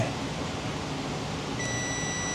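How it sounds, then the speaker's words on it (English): A multimeter continuity tester gives a single sustained electronic beep near the end, after steady background hum. The probes are on wiring to the throttle position sensor of a Dodge Dakota 3.7. "So this orange right here should beep when we make contact"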